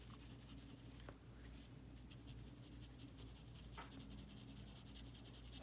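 A dip nib loaded with fountain pen ink scratches faintly across paper in soft, continuous strokes, quiet and close.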